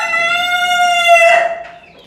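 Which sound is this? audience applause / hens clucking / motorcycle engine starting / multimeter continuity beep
hens clucking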